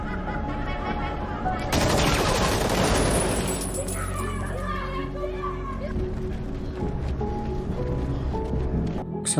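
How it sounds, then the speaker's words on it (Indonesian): Bursts of gunfire in a film scene, rapid volleys of shots mixed with shouting and chaotic background sound, loud and dense for several seconds before easing into scattered noise. "kewaspadaan mereka tak luput dari suara tembakan"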